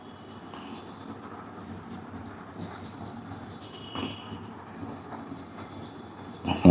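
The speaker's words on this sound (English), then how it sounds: "Now you can use a sandpaper and rub it to get a sharp tip." A charcoal pencil tip rubbed lightly on sandpaper to sharpen it gives a steady, soft, fine scratchy rasp that runs on continuously at close range, with a louder knock right at the end.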